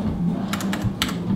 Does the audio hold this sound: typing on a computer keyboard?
yes